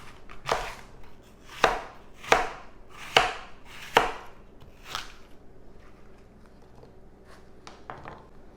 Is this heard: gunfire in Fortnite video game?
no